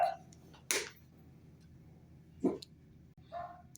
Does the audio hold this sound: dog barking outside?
yes